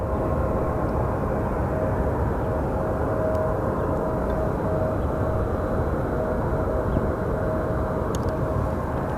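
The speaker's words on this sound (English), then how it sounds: "To me, it's crazy how loud these CRJs are." A loud CRJ regional jet, a SkyWest flight bound for Houston, passes at Phoenix Sky Harbor Airport. Its sustained engine roar fills the whole stretch at an even, strong level, with no talk.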